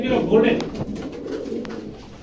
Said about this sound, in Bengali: একজোড়া গোল্ডেন কবুতর দেখেন আপনারা